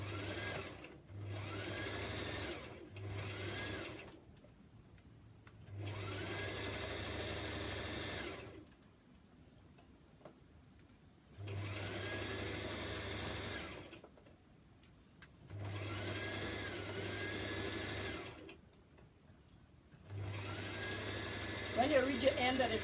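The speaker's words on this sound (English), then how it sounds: "And now we're going to sew." A sewing machine stitches a dart on a homemade top in several runs of a few seconds each, whirring close and loud, with quiet pauses between runs and a voice talking in the gaps.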